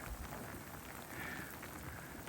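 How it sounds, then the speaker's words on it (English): Heavy rain falls near an erupting volcano in Iceland, a dense, steady, faint hiss of drops on the ground with no voices. "We have a lot of rain now."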